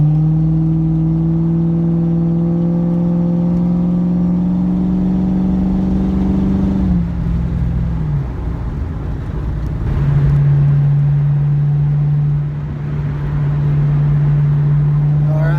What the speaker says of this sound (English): so here I am doing some highway cruising in the Mustang, stock 327 gears